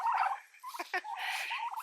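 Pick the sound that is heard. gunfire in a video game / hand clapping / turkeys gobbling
turkeys gobbling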